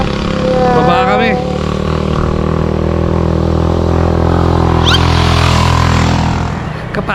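A motorcycle near Patar White Beach in Bolinao, Pangasinan, idling close by with a steady low engine drone while people talk over it.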